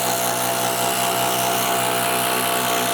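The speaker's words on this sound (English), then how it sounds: "We're going to run this quarter by 6-inch fastener." A Milwaukee Surge impact driver sinks a quarter-by-6-inch fastener, giving a loud, continuous whirring drive that holds steady at close range with no pauses.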